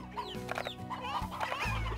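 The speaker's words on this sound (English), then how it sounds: "We got rooster. We got an elder hen." Rooster and elder hen in the Slime Rancher video game, clucking and squawking in quick rising calls over a steady game hum, close and moderately loud without talk.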